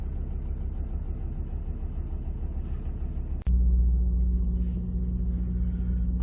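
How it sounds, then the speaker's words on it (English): Steady low rumble of trucks and highway traffic at a truck stop off Highway 401, a constant engine drone with a sudden jump in loudness partway through, no talking. "You can still hear trucks, the noise from the highway, but not too bad."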